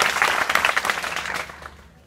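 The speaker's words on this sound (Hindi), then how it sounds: "श्वेता जी के लिए जोरदार ताली बजाएं।" Students at Kishan Majdoor Inter College applauding for a girl named Shweta, a brisk burst of clapping from a group that gradually fades out.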